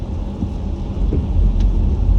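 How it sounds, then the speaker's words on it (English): Rain falls on a car driving on a dark night, a constant hiss over a deep low rumble of the road and engine, with occasional soft thumps and no voices. "It's raining and it's pitch black."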